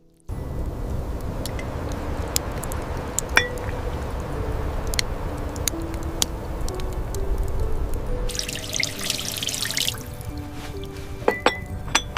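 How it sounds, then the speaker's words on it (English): Broth dripping back into a bowl as chopsticks lift out tofu and daikon, giving soft scattered drips, small splashes and light clinks, close and quiet, with a brief burst of brighter pouring water near the end. "Chopsticks lift tofu and daikon from the bowl, broth dripping back with tiny ripples and soft, delicate splashes."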